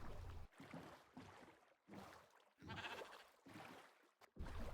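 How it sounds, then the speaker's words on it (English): Sheep bleat in the Minecraft video game, several short nasal calls in a row separated by brief silences, fairly close and alone with no speech. "I grab some sheep, because I'm going to need them for wool at the other island"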